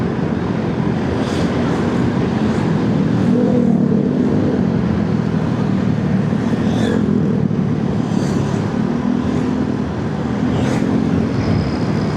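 Busy morning street traffic in Kuningan with many motorcycles ridden by high school students, a continuous loud rumble of engines passing close by, with several rising engine whines and occasional higher tones over the steady roar.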